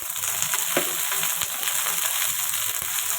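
Okra sizzling steadily in a hot pan after salt and turmeric go in, a continuous close crackle with a few soft stirring knocks and no talk.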